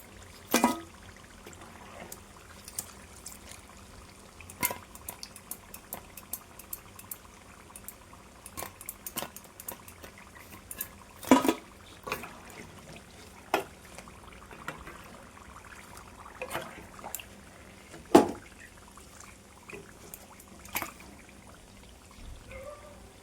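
Onion samosas fry in hot oil with a soft, steady bubbling hiss, broken by scattered crackles and pops, some louder than others, all fairly quiet and close.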